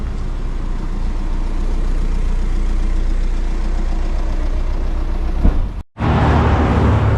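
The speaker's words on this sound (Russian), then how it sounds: "Машин очень много." Steady car traffic rolls along a street in Šabac, Serbia, a continuous close engine rumble with passing vehicles, broken by a brief cut near the end before the traffic noise resumes loud.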